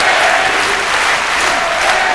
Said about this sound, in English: The crowd now starting to get behind their man.